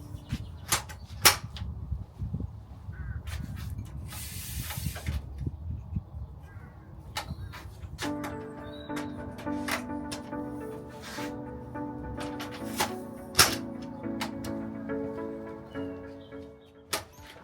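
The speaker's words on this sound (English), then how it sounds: "then you fold up the legs, hook them back into place, and then continue folding up the awning" Legs of a Fiamma awning on a VW Crafter roof rack folded and hooked back, then the awning wound in: scattered sharp clicks, clacks and knocks with a faint whirring winding stretch, close by.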